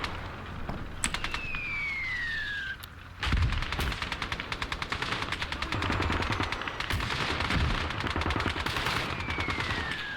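Rapid bursts of RPK light machine gun fire ring out in the Call to Arms Cold War game, dense and continuous across the whole stretch, with a rising whine laced through the shooting.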